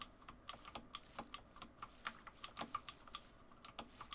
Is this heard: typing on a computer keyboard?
yes